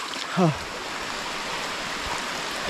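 Steady hiss of rain falling nearby, a continuous wash of noise with a brief voice-like sound near the start.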